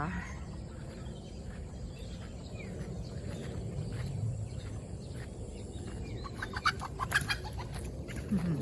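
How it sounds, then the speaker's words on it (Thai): Chickens cluck and scratch faintly in an outdoor setting, with soft bird calls and a steady low background hum. "น้องไก่เดินกันสลอนวิ่งกันกระจายเชีย"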